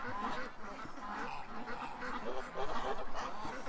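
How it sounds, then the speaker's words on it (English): Ducks being shut in for the night give a steady chorus of quacks and honking calls, fairly faint and continuous, with a person speaking over them. "Come on, ducks."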